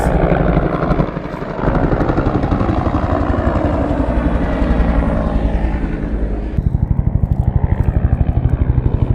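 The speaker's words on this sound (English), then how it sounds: "Here comes some choppers." Loud, throbbing rotor and engine noise from passing helicopters, a continuous thumping roar that shifts in pitch as the aircraft move overhead.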